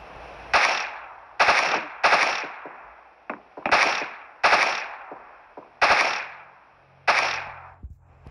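Weapon fire in the video game PUBG Mobile: seven or eight loud, sharp single shots spaced roughly half a second to a second apart, each with a short ringing tail, and no voices.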